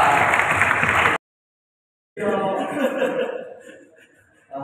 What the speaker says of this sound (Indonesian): Woi, tepuk tangan Bapak.